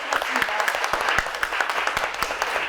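A crowd at a Korean reading campaign event claps together in steady, dense applause, many hands close and sustained for a few seconds.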